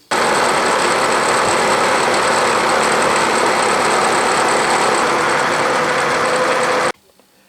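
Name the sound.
milling machine squaring workpiece end with solid carbide cutter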